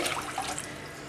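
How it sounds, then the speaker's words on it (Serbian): Plain water pours steadily into a pot, giving a short, close, even splashing rush. "naliti 600 ml obične vode"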